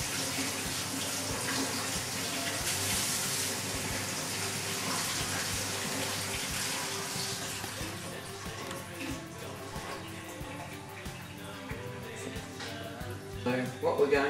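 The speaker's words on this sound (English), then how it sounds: "Just make sure that you wash the mushrooms." Mushrooms being washed under a running kitchen tap, a steady hissing stream of water splashing throughout, with a person talking over it and some clatter toward the end.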